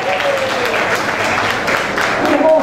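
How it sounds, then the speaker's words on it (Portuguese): Applause and crowd noise at the Blue Space matinee show hosted by Silvetty Montilla: a thick, steady roar of clapping from a packed audience, holding loud throughout. "Aplausos aí, já Sheila aniversariante."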